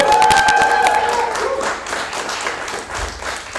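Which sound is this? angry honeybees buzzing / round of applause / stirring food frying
round of applause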